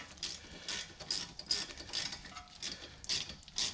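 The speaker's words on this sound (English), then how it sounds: "Put our new bolts in. New ones are also a 13 millimeter." A ratchet tightens new 13 mm bolts on a Mini Countryman rear brake caliper, with rapid clicking bursts in a steady back-and-forth rhythm, close and quiet, no talking.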